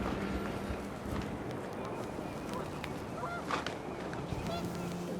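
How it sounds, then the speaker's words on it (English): Panicked geese honking in the video game What Remains of Edith Finch, a scattered flock calling over a windy, busy backdrop with some rustling and faint thuds. "The wind picked up, and panicked geese appeared and quickly went."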